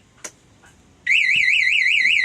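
A motorcycle alarm, just armed, bursts into a loud, continuous warbling siren after a second of quiet with a brief click, holding steady and close to the end.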